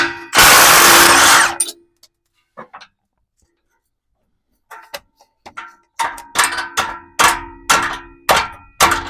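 A pneumatic impact wrench loosens a rusty exhaust bolt on a Jeep Wrangler JL during a Redrock exhaust install, with one long loud burst, a few faint clicks, and then a series of short, sharp hammering bursts.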